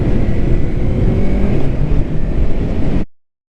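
A 2020 Yamaha MT-03 motorcycle riding on the road, a loud continuous engine drone mixed with heavy wind rush, steady throughout before cutting off abruptly near the end.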